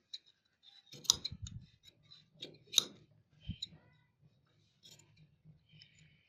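Scissors snip away excess fabric margin while cutting a blouse back neck design, a few quiet close crisp snips and clicks separated by pauses, with faint handling noise in a silent room.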